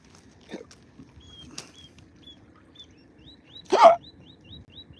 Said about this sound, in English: All the little birds, tweet, tweet, tweet.